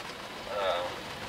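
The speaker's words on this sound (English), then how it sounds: "It's just light rain here." Light rain falls during a severe storm near Dublin, Indiana, a soft steady hiss with a brief voice-like swell midway through.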